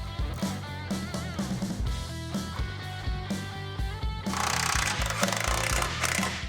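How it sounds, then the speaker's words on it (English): A power drill bores holes into the steel gas tank brackets of a Jeep Wrangler JK, a loud, close, rattling grind in repeated short bursts, rising into a harsher, brighter cutting whine near the end. "then you have to drill out the side holes into the gas tank brackets"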